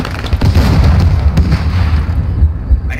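Explosive fire striking a tank in a multiplayer war game, heavy booming blasts and rumbling low bursts filling all three seconds, loud and close with no talk.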